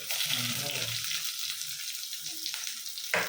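Sliced onions drop into hot oil for a prawn chilli dish and set off a steady, close sizzle that carries from start to end, with a brief clatter of stirring near the end.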